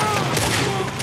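Dense burst of rifle gunfire in a Red Dead Redemption 2 shootout, loud and continuous for the whole moment, with overlapping shots blurring into one roar.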